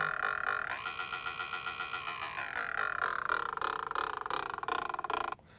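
A looped, buzzy pipe sound pulses rapidly while its pitch slides and shifts through changes in playback speed, then cuts off abruptly near the end.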